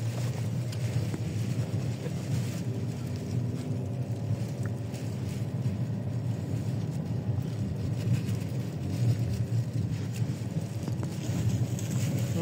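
Low-slung car climbing an uphill road in manual gear, its engine a steady, loud low rumble throughout with wind buffeting the microphone.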